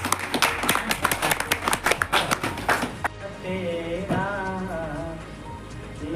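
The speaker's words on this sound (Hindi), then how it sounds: "तालियां।" Crowd clapping at an evening devotional bhajan kirtan session with a spiritual teacher: sharp, rapid handclaps for about three seconds that stop abruptly, then a voice begins singing a melodic line.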